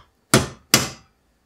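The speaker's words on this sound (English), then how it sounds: "get yourself a hammer and make a little dent" A hammer strikes a center punch twice to dent metal while installing a computer water-cooling pump, two sharp, close, ringing taps about half a second apart with silence around them.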